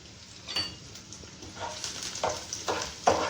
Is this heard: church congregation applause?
no